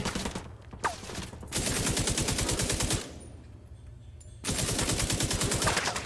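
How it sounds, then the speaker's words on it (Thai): Long, loud bursts of rapid automatic machine-gun fire in the shooter game The Division 2, two sustained volleys separated by a short quieter gap, heard close and dominant with no talk over them. "สองร้อยนัดครับ ยิงให้โลกระจาย"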